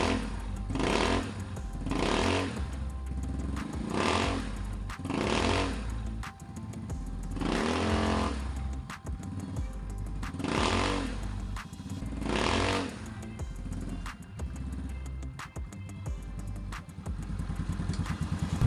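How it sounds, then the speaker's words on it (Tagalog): Yamaha Mio Sporty scooter with an Apido exhaust pipe, its engine revving loudly in repeated bursts that rise and fall over a steady running drone, close by and with no talk. "Lakas tumunog mga ka-idol, lakas tumunog ng Apido pipe."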